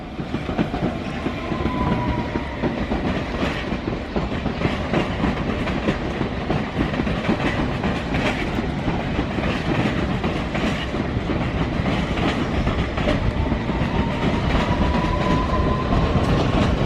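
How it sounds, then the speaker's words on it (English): Loud, steady rumble of a London Underground District line train pulling away at Ealing Broadway, with continuous rattling wheels and faint metallic squeals throughout. "A tube train going out."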